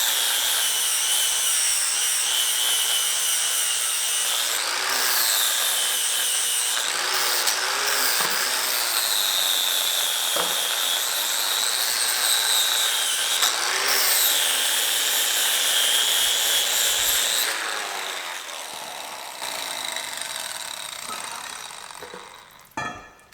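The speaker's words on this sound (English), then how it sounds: "So we're trying to notch it out with the flap disc" An angle grinder with a flap disc notches a steel roll cage tube for a Datsun 280ZX, a loud, steady, high whine that rises and dips as the disc bites, then fades near the end.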